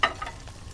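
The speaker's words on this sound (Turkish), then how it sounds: "Tamam, çorbamız kaynadı." A brief, soft bubbling sizzle from soup boiling in a pot in the Kebab Chefs restaurant simulator game, with a faint burst at the start and a low, steady simmer.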